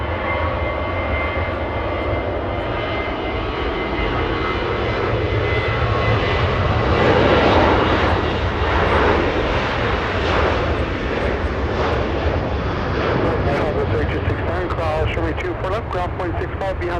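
United airliner departing Los Angeles International Airport bound for San Francisco, its loud continuous engine roar swelling toward the middle and easing off, with talk running under the noise.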